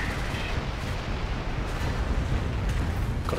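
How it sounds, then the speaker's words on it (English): Rocket barrage from a Calliope launcher pounding a building in Company of Heroes, a dense, continuous roar of overlapping blasts and rumbling impacts filling the whole stretch at steady loudness. "my Calliope's come under fire from this building, so I'm going to launch my rocket barrage onto it"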